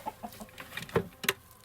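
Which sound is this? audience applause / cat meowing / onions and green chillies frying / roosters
roosters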